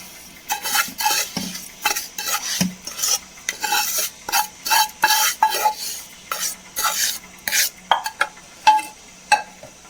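Roasted coconut is stirred into unniyappam batter in a bowl, a steady run of close, wet scraping strokes with short pauses between them and no talking.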